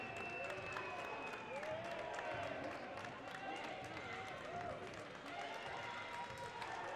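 Basketball crowd in a college gym cheers and applauds after an alley-oop dunk, a steady wash of clapping and shouting with a commentator talking over it.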